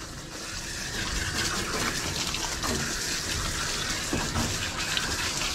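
Steady rushing water rinses soap from an Aussiedoodle puppy during a bath, a continuous close gush from a tap or sprayer running without pause.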